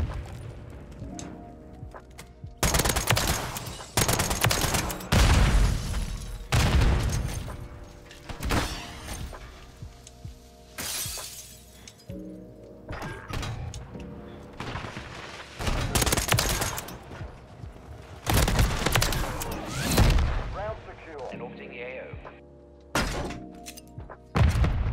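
Full-auto FTAC fire in Call of Duty rattles out in loud, close bursts of rapid shots, separated by short pauses and punctuated by heavy thuds.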